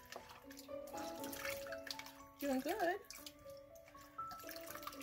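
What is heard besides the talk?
water rinsing soap off a kitten during bath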